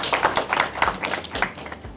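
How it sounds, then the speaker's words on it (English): Scattered audience clapping at a business breakfast for HR managers and business leaders in a Nairobi hotel, a modest number of hands beating in an uneven patter, fairly close and moderate, fading slightly toward the end. "A round of applause for you,"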